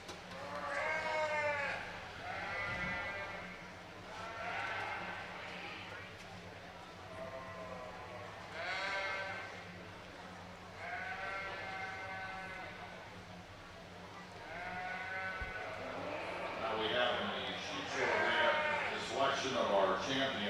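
Suffolk breeding ewes at the Aksarben stock show bleat repeatedly, the calls coming in overlapping bursts throughout while a voice talks over a steady low hum.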